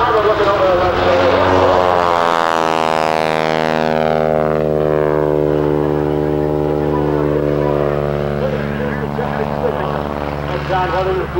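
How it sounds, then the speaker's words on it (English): A loud propeller plane drones overhead at a 1987 Cleveland airshow, its engine pitch sweeping steadily downward then rising as it passes close by. "maneuvering the airplane around from wingtip to wingtip while Elliott and Lori stabilize"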